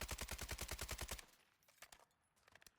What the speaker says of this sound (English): Look at the normal recoil when I hold it down full auto.